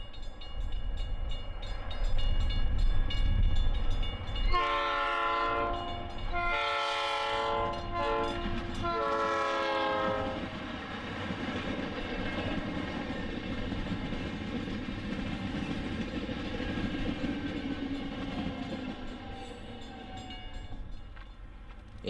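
A South Shore Line westbound rush-hour commuter train pulls into Ogden Dunes station, blowing a loud, multi-toned horn in three long blasts over the steady rumble of rolling cars, then continuing to roll and clatter past.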